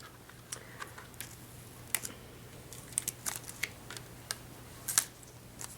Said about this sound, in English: we're going to peel up that garbage vinyl, which is the vinyl we're not going to be using